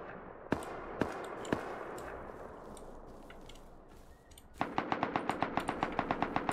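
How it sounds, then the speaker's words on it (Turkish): Bursts of automatic gunfire in the survival game Rust: three sharp isolated shots, then a fast, loud run of evenly spaced rounds closing out the stretch. "Bu arada bana mı sıkıyorlar lan?"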